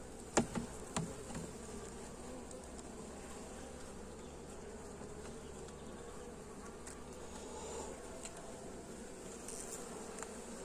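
Very small bees buzz steadily around open hives during a laying check, a continuous faint hum with a few light knocks near the start and no voices.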